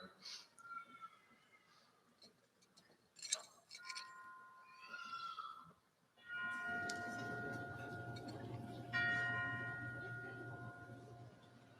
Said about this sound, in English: We remember America's fallen by placing a hand over our heart as a bell rings in their honor.